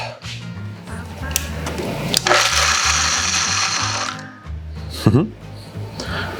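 A blender used as a food processor roughly chops pecans in a loud whirring, grinding burst that starts abruptly and cuts off, with a voice speaking around the machine noise.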